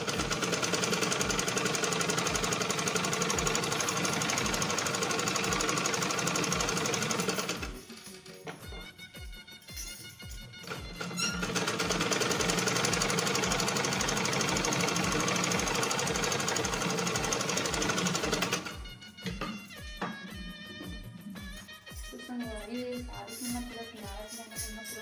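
A sewing machine stitches the hem of a lehenga in steady, rapid mechanical clatter. It runs in long bursts, and a short pause with handling noise separates the stitching runs.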